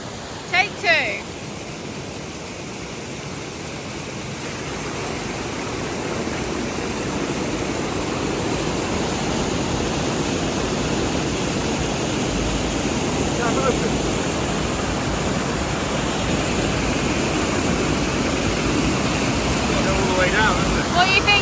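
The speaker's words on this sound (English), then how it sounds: "I'm thinking it's just letting so much water underneath" Water rushes steadily under the lowered door of a small homemade stream dam, a dense, constant roar that stays loud and unbroken throughout.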